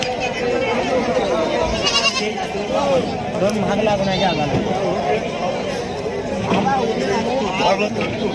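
Goats and sheep bleat repeatedly at a busy livestock market in Sangola, loud and close, layered over steady crowd chatter and people talking nearby.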